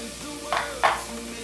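Onion sizzles softly in a hot pan, with two short bursts of louder crackling as it is stirred.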